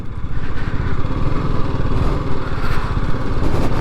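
A BMW G310 GS BS6 motorcycle engine drones steadily and loudly while the rider stands on the foot pegs, a continuous close, throbbing single-cylinder note with no talk.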